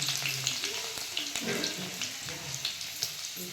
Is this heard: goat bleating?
no